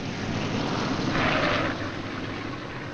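B-17 Flying Fortress bomber engines drone in a steady, dense roar that swells slightly in the middle, with no voices over it.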